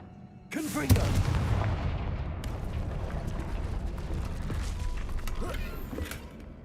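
Blasting-curse explosion from the Confringo spell in Hogwarts Legacy, a sudden loud boom at under a second that rolls into a long, dense rumbling tail while a voice talks faintly over it.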